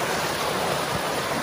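A creek in Spearfish Canyon flows close by, giving off a brief, steady broadband rush of moving water.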